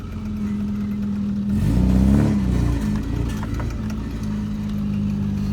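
A vehicle's engine runs just after a full chassis swap, with a steady, loud, close idle that swells into a brief rev partway through before settling back to a rough, even hum.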